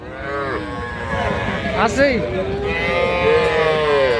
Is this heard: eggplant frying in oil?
no